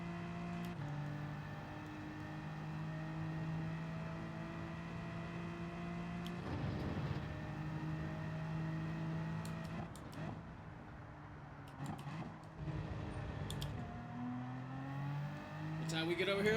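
A race car engine in Gran Turismo 7 holds a steady drone, dips through a brief braking and downshift burst, then climbs again in rising pitch under throttle, with a commentator talking throughout.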